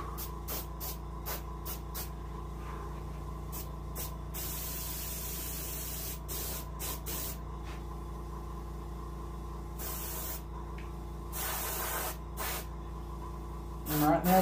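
Repeated hissing bursts of airbrushed paint onto an Arctic char taxidermy fish, some brief and some longer, over a constant mechanical hum, with a soft voice near the end.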